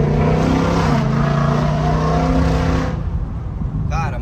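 A forged Ford Mustang engine roars loud and close during a rolling pull, holding a steady droning note for about three seconds before easing off into a rougher, lower rumble.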